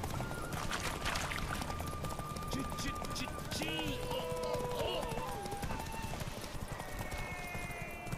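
Rapid rhythmic hoofbeats of a galloping horse in The Witcher 3: Wild Hunt, steady throughout, with music and other game sounds layered over them.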